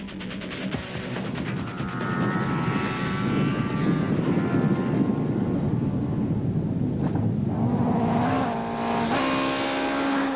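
Rally cars at the 2006 Toyota Dealer Rally roar past at high speed, a continuous loud engine whine rising and falling in pitch as they pass close by.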